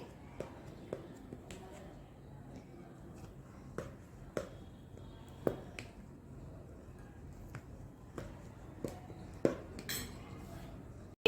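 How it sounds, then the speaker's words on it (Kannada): Sharp metal clinks and taps of a utensil against a pan while an instant breakfast dish is cut into square pieces, sparse and quiet, with soft speech in the background. "ನಾನಿವತ್ತು ಸ್ಕ್ವೇರ್ ಶೇಪಲ್ಲಿ ಕಟ್ ಮಾಡ್ತಾ ಇದ್ದೀನಿ"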